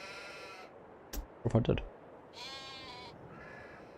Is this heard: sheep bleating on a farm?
yes